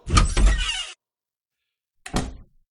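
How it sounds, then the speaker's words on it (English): A door-closing sound effect fired from a soundboard: a loud, broad thump with a rattling tail, followed after a second of silence by a shorter, quieter second hit. "But then I added the door closed sound."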